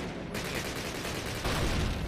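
Call of Duty gunfire rattles in rapid bursts of shots, close and loud, starting abruptly and swelling heavier near the end.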